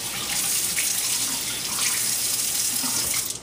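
Tap water runs steadily from a faucet to rinse an opened young Thai coconut, a loud, continuous splashing hiss that lasts the whole time.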